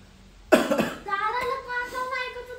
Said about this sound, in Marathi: हे बघा असा खोकला येत आहे